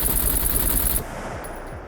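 Rapid, dense automatic gunfire rattles loudly without pause in the SCUM video game, shots fired through a house wall, easing to a softer burst with a faint ringing tone toward the end.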